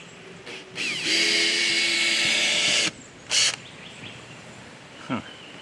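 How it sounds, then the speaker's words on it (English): A power drill bores into the frame of a cargo trailer during a conversion, whining loudly for about two seconds after a short start, followed by a brief second burst and quieter clatter. "Let's just drill one and see what happens."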